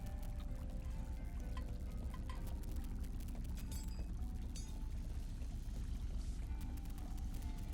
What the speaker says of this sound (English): I could hear water flow through the pipes to another part of the building